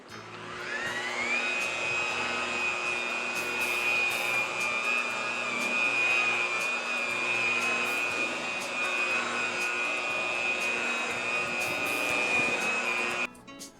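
A power buffer whines at high speed while polishing fiberglass gelcoat with compound, a steady close motor tone that holds for about twelve seconds before cutting off abruptly.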